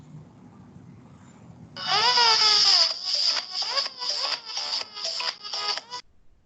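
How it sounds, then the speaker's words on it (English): A mobile phone ringtone going off loudly in a classroom, an electronic melody of rising tones followed by a rapid string of repeated chirping bursts, then cutting off abruptly. "Yi Hao, your ringtone is the Indian copy number"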